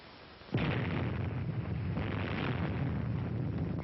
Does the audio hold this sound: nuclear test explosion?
yes